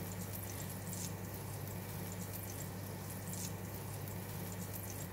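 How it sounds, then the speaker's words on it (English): Butter melts in a hot pan while a spatula pushes it around the surface, making a soft, steady sizzle with faint scraping and occasional light ticks, and no voices. "Heat the pan, add in the butter, and melt the butter by using spatula to push it around the hot surface of the pan"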